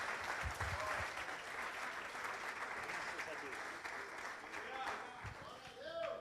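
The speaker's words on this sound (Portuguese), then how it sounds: "Aplauda Jesus pela vida do servo de Deus." A church congregation applauds during a worship service, steady massed clapping with a few low thumps and faint voices rising beneath it.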